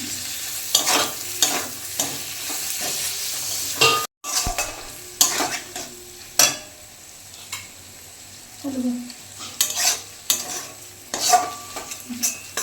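Chopped mutton fat frying with spices in a pan, stirred in repeated scraping strokes with a utensil over a soft sizzle, close and moderately loud, with a brief gap and a few metallic knocks against the pot.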